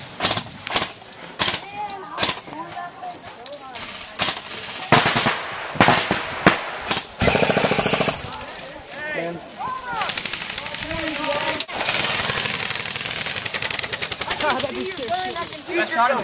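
Airsoft guns fire in rapid bursts and volleys of sharp cracks during an outdoor skirmish, close and loud, with shouting and talk between and over the shots.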